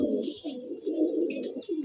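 An Andhra flying pigeon coos close by in a soft, repeated throaty pattern of several low murmuring calls with brief pauses between them.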